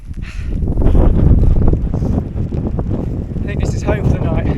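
Strong wind buffets an exposed moorland camp in the Peak District, a loud, roaring gusty rush that swells and eases, with talk over it.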